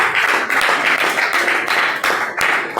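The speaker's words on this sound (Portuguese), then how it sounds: "E as palmas para Jesus, aleluia." A church congregation claps together in praise during an evangelical service, a dense, steady burst of hand claps filling the room.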